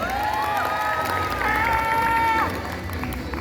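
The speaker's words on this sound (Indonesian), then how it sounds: "Mana nih tepuk tangannya?" A school crowd at a student ambassador pageant final claps and cheers loudly and continuously, with shouting voices and tonal cries rising over the din before it eases slightly.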